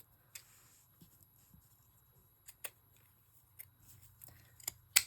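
Scissors cut lace for a scrapbooking embellishment with a few short, crisp snips spread out over several seconds, close and quiet against a low steady hum.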